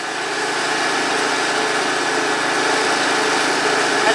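A TimberKing 1620 sawmill's engine runs at a steady idle, making a loud, continuous drone that holds unchanged throughout with no talk.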